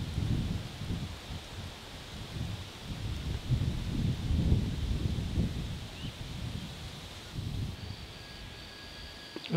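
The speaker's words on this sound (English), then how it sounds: "Wind's blowing pretty good, probably about 10, 15 mile an hour at least." Steady wind of about 10 to 15 mph rushes through leaves near a Mississippi kite nest on a hot, breezy day, a continuous broadband whoosh swelling and easing in gusts, with faint chirps from birds late on.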